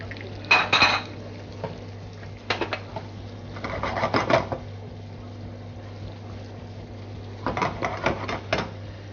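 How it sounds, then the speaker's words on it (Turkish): Metal clatter and scraping of a pan as julienned onions and beef tenderloin are sautéed, stirred and tossed, in a few short bursts separated by quieter stretches with a low steady hum. "Her ikisini ayrı söteliyorum"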